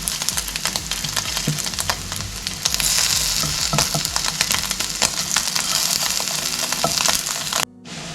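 Chili and cumin with salt frying on a grill, a steady dense crackling sizzle with occasional sharper pops, close and loud, cutting off abruptly at the end.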